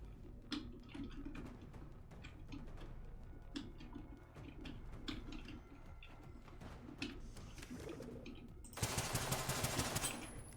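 Gunfire in the video game Generation Zero on its hardest setting: faint, scattered shots and ticking impacts through the first several seconds, then a sustained loud burst of automatic fire near the end.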